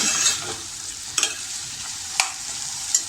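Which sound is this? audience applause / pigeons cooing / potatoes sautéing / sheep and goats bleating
potatoes sautéing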